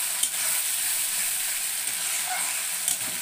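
Spice paste (masala) for a fish curry frying in oil until the oil separates, giving a dense, even, close hiss of sizzling with a few faint stirring clicks.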